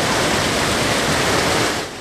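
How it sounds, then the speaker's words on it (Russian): Sewage water pouring and rushing at a wastewater treatment plant, a steady broadband roar of flowing water that stays loud throughout and eases slightly at the very end, with no voices. "Следом сточные воды направляются в песколовку, затем в отстойники."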